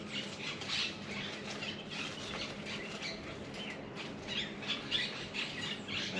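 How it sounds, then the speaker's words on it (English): Puppies play with squeaky toys, giving quick, repeated high-pitched squeaks that come in irregular bursts; the squeaks are faint and distant, and no one speaks. "The puppies are getting a lot of good out of their squeaky toys."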